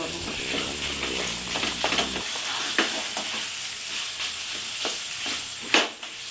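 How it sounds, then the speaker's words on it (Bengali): Chicken mince fries in spiced oil and is stirred around the pan, a continuous close sizzle punctuated by repeated sharp scraping strokes of the spatula. "এবার আমি চিকেনটা দিয়ে দেবো কিমাটা দিয়ে দেবো দিয়ে একটু নাড়াচাড়া"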